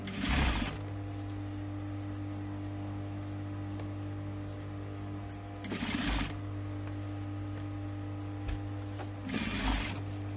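Sewing machine stitching the binding on a cosmetic pouch with a magnetic clasp, running in short bursts of back-tack stitching over a steady low motor hum, fairly quiet with no talk.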